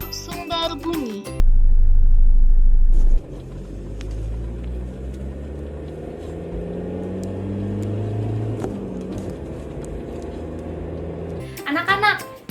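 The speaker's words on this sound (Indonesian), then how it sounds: "Tadi kita mendengarkan bunyi dari kendaraan mobil." A car passing by: a low engine rumble swells and fades over several seconds, preceded by a loud low-frequency burst, with brief other sounds at the start and end.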